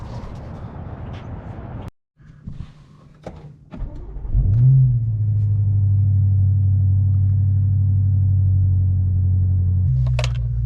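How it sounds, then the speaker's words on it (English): A BMW M5's twin-turbo V8 starts with a short whir, then settles into a deep, steady idle rumble that holds strong and close, with a brief blip near the end. "The sound of that twin turbo V8 inside of this car will literally never get old."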